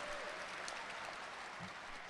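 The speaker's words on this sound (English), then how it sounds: "Please give yourself a big round of applause." High school graduates and audience give a dense, continuous round of applause at a graduation ceremony, many hands clapping steadily in a large space.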